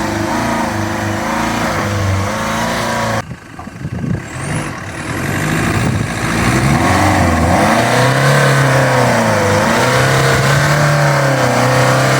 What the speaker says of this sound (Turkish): araba çok zorlanıyor ya